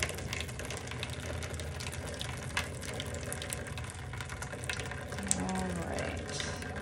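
Water from cooked pad thai noodles pours out as they drain in a kitchen, a continuous rushing splash with light clatter, fairly close and steady.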